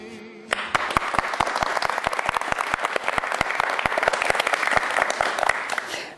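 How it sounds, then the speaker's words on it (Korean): A live audience claps loudly at a golf lesson event, a dense burst of applause starting abruptly and holding steady throughout. "박수 아주 크게 쳐주셔서 감사합니다"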